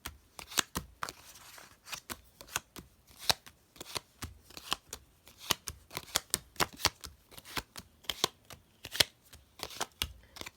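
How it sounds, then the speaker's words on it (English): Playing cards are tossed down one at a time into three piles for a magic card trick, a quick series of crisp close slaps and flicks in an uneven steady rhythm, quiet and with no talk. "You throw down the cards in 3 piles."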